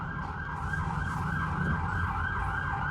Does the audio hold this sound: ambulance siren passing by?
yes